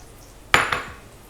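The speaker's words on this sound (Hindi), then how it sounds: "अब इसमें सीधे मशरूम डाल लेते हैं।" Mushrooms tipped into a pan for an Indian coriander pesto mushroom dish land in one sharp clatter, followed by a smaller knock and a brief fading rustle and sizzle, close and otherwise quiet.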